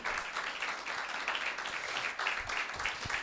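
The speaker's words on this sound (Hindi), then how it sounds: "तालियां बजाए खुदावन यीशु मसीह के लिए" A church congregation claps during a Sunday meeting, giving sustained, fairly faint applause that rolls on steadily throughout.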